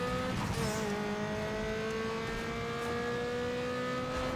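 A car engine holds a high, steady rev at a race start in Need for Speed Underground 2, droning loudly and evenly with a slight pitch drop near the beginning, and no talk over it.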